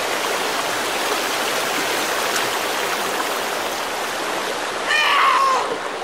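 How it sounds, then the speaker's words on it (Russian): Steady flowing stream water in the video game Sons Of The Forest, a continuous broadband rush close by, with a brief louder splash near the end; no talk. "Я тут бегу. По ручейку."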